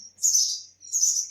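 A house sparrow chick gives two high, thin chirps, close by and fairly loud, with a short gap between them.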